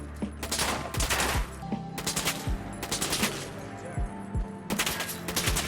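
A modded weapon fires in Fallout 4 in several loud bursts of rapid automatic shots, each volley separated by short gaps, with sharp impacts ringing out between them.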